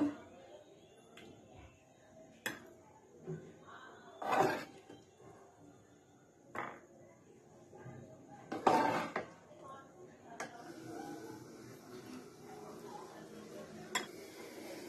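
Utensils handled while plating malai soya chaap: sparse, separate clinks and clatters of metal spoons against dishes, a few sharper rattles spaced across a quiet kitchen background, with no talk.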